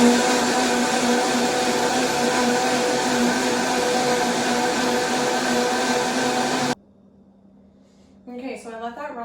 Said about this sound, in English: we're just gonna blend this until it becomes creamy